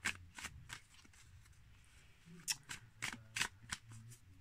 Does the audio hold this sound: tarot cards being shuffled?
yes